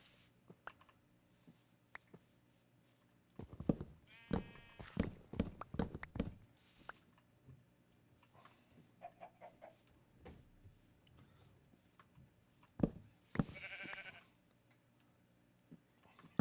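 Sheep in a Minecraft world bleat several times in short clustered bursts, with a louder run of bleats in the middle and another near the end, mixed with faint in-game footsteps and clicks.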